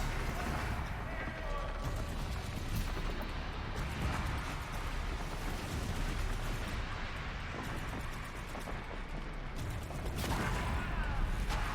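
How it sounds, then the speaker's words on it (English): Explosion blasts in the Horizon Zero Dawn video game, a dense, loud stretch of booming, rumbling bursts and mechanical clatter running continuously throughout. "Dude, that kind of blast explosion, that's a little much."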